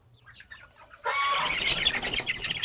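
Young native chicken chicks peep faintly at first, then burst into loud clucking, fluttering and scratching as new feed is given, a busy close-up flurry that keeps going.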